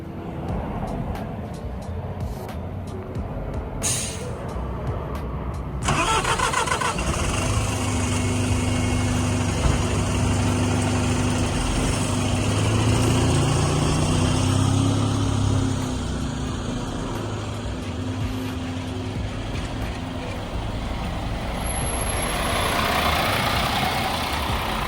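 A Mercedes-Benz Citaro bus on London route 117 pulls in, its diesel engine swelling to a steady loud rumble, then idling at the stop with a continuous drone.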